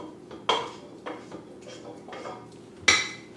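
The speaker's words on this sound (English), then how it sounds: "I've already browned a pound of ground beef, so I'm just going to go ahead and add that in to the crock pot." Browned ground beef is spooned into a crock pot, with a few sharp clanks and scrapes of a utensil against the pot, spaced irregularly over soft background hiss.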